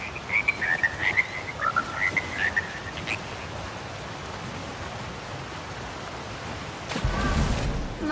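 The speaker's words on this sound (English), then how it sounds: "My beautiful frogs, they've come home. Such beautiful music." Frogs croak in a fantasy marsh setting in the game Elder Scrolls Online Blackwood, a run of quick, bright, bubbly croaks for about three seconds, followed by quiet ambience and a short splash-like whoosh near the end.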